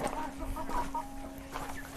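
Desi (native Indian) chickens cluck and murmur in short bursts against a steady low hum, a busy poultry-house sound at moderate distance on a poultry farm.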